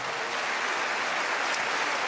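A church congregation breaks into sustained applause during a sermon, a dense, fairly loud wash of clapping that stays even throughout with no speech on top.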